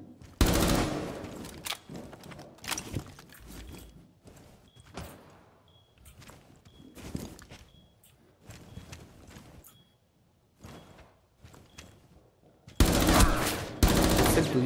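Gunfire from Rainbow Six Siege ranked play comes in sharp, scattered bursts of rapid shots with quiet gaps between them, ending in a long, loud sustained volley.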